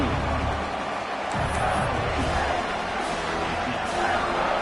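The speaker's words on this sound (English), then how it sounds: "And here comes the noise. This crowd is trying to inspire this defense to make a big red zone stop." A stadium crowd at a Clemson football game roars steadily as the defense faces a goal-line stand, a dense wash of distant noise that holds for several seconds.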